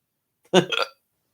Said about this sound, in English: I don't want hiccups.